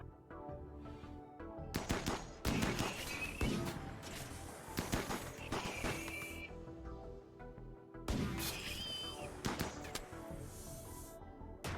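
Gunfire in a RimWorld ambush, with sharp clustered bursts of shots breaking out in several volleys between quieter stretches of game ambience.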